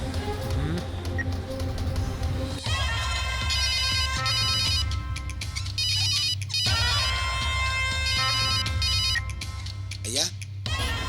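A mobile phone ringtone plays a repeating electronic melody, loud and close, running continuously through a scene in a Tamil television drama with background score underneath.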